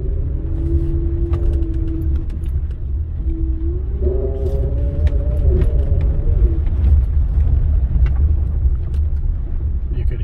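A 2007 Honda Ridgeline gives a low, wavering moaning tone under load while turning at low speed, rising and shifting over steady engine and road rumble, with no talking.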